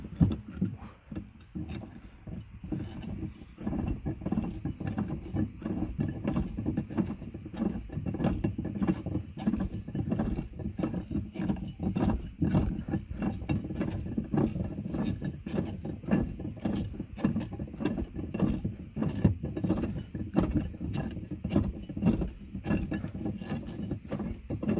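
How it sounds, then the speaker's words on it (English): A crank turns the spare tire winch cable on a 2024 Kia Sorento to lower the tire, giving a continuous ratcheting, clicking mechanical rattle at close range. "spin it counterclockwise, and that'll loosen the cable, and your tire will come down."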